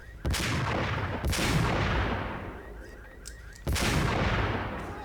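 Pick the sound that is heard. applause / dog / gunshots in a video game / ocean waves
gunshots in a video game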